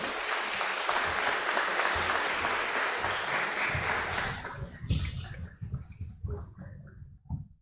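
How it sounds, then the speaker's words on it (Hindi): An audience at a Youth Sunday cultural evening claps loudly in a sustained burst of applause that thins out and dies away after about five seconds. "जोर से तालियां बजाइए।"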